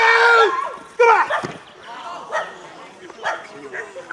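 A one-year-old young dog barks and yips repeatedly during a dog training exercise at a Winterswijk dog club, loud and close, with a whimpering edge between barks.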